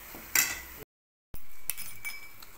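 A metal spoon clinks against a pan or bowl while salt, turmeric and chili are stirred together for a cauliflower tomato curry, a few sharp close taps and scrapes broken by a brief gap of silence.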